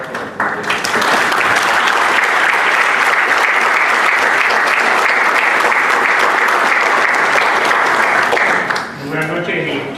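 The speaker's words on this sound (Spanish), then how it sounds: "Un aplauso." An audience at a talk or conference breaks into loud, sustained applause, dense and steady for about nine seconds, then dies away as a voice begins speaking.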